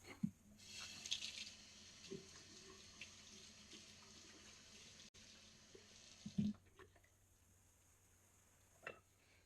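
Tap water runs into a sink while someone rinses off during a straight-razor shave, a soft, close trickle and splash lasting several seconds before fading, with a few small knocks and splashes afterward.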